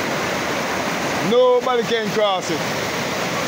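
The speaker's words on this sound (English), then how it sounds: "A real, real river stream this." A flooded river in Jamaica rushes after heavy rain, a steady loud roar of churning water that runs throughout while someone speaks briefly over it.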